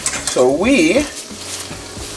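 Venison cooks in a hot pan, frying for about nine minutes toward medium rare, with a steady close sizzle; a voice speaks briefly over it.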